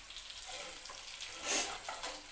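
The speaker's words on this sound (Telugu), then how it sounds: "ముందు కొన్ని వేసిన ఫ్రై అవుతున్నాయి" Fish pieces, marinated with salt, chili and garam masala, fry in a pan of hot oil with a soft, steady sizzle and a brief swell of crackling, fairly quiet.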